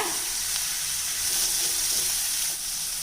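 Curry leaves and tomato saute in hot oil for a millet vegetable upma, producing a loud, continuous close-up sizzle that holds steady throughout without any voices.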